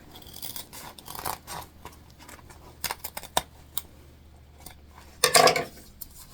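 Scissors snipping fabric while sewing a wristlet, with scattered short close cuts and clicks of the blades, ending in a brief louder burst of rustling snips; no talking.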